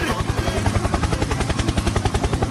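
Rapid rhythmic helicopter rotor thumping in a video game, steady and loud, fills the clip with a dense whirring drone.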